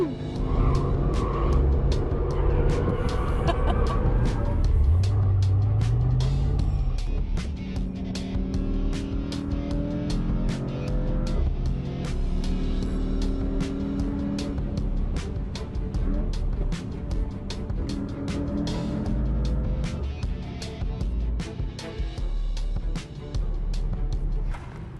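A 2021 Mercedes-AMG E 63 driving hard in drift mode, its engine loud and close, revving up through gear changes in rising sweeps with a strong rumbling exhaust that holds steady throughout.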